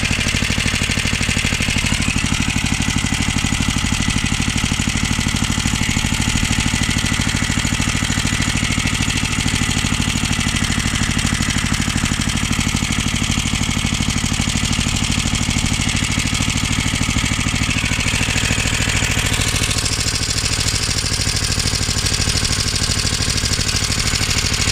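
A 1976 Hayterette rotary lawnmower engine with its idle set low runs steadily and loud, with a continuous close mechanical drone and a slight shift in pitch near the end.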